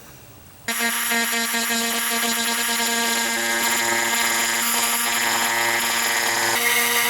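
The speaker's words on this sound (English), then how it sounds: "I'm going to Dremel it out a little bit also" A Dremel rotary tool grinds out a puncture in a Jeep Liberty bumper, kicking in suddenly with a high, steady whine that holds close and loud throughout.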